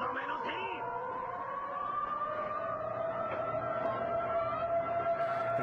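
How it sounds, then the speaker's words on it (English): A siren blares steadily at a hardcore barbed-wire explosion deathmatch wrestling event, a sustained wailing tone over loud crowd noise throughout. "The siren just blaring here."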